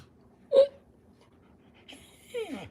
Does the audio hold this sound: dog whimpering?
yes